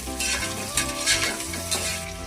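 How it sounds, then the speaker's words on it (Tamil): Onions sautéing in ghee for ghee rice, with a steady close sizzle, a few stirring scrapes of a spoon against the pan, and no voices. "வெங்காயம் கொஞ்சம் சீக்கிரமாக வதங்கலாம்"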